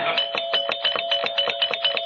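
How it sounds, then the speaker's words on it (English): A doorbell in a 1949 radio comedy rings as a rapid run of bright, evenly spaced metallic strikes, loud and close, continuing steadily without any voices. "I think I detect her gentle touch on the doorbell."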